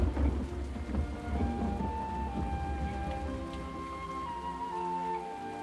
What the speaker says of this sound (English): It has been raining solidly for a week.